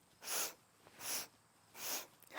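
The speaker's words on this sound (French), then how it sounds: "C'est comme tu renifles." Three sharp, evenly spaced nasal sniffs drawn in one after another during a breathing exercise, close and fairly quiet, with silence between them and no talking.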